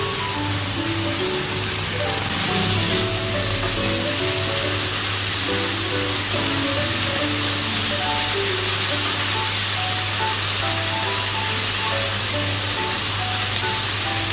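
Green beans frying in a pan with turmeric and sugar, a steady loud sizzle and hiss that runs unbroken throughout, with faint voice-like tones in the background.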